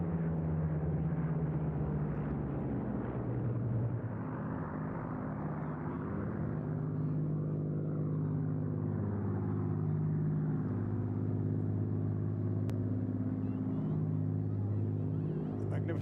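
A Spitfire flying past at an airshow, a deep droning piston-engine rumble that swells and shifts in pitch as it moves, fairly distant and soft, with commentary heard over it.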